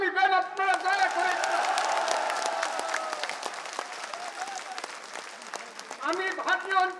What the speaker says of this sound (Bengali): একটা জোরে হাততালি দেন আপনারা দয়া করে